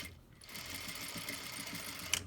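A sewing machine stitches about an inch across a gathered dashiki skirt's waistband, a steady close mechanical whir with a fine rapid needle rhythm running almost the whole time, then a brief click near the end.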